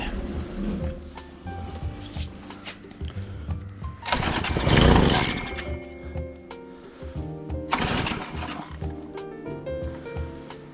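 A Honda Holiday FG201H tiller engine, given a spray of CRC after failing to start, is cranked with pull-start rasps and sputters, with two louder bursts as it briefly catches amid clattering handling noise.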